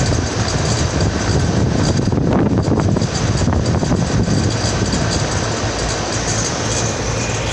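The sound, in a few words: 2017 Allied commercial 5-ton HVAC unit running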